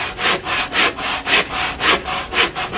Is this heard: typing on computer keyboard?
no